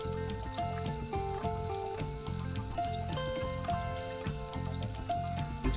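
Prawns for pickle fry in oil while being stirred, a continuous close sizzle running under steady background music.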